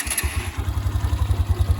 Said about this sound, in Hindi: तो ये है इस बाइक की आइडियल स्टार्टिंग